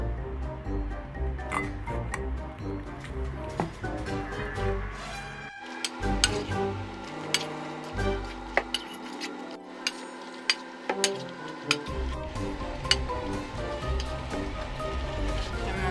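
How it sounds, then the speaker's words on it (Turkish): A zucchini and egg mixture with cheese is stirred in a bowl, giving continuous close wet clicking and scraping with sharp utensil taps against the bowl. "Şimdi bunları karıştırıyorum."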